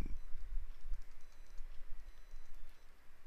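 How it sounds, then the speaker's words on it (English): Typing on a computer keyboard, quick irregular key clicks close by, fairly faint over a low background rumble, with no talk. "I can just type in"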